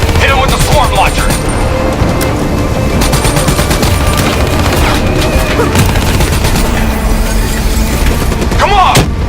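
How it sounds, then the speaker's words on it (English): Rapid bursts of gunfire and booming explosions from a swarm launcher fight inside a building in Call of Duty Black Ops 3, a dense and continuous loud barrage with shouted voices mixed in. "Hit him with the swarm launcher!"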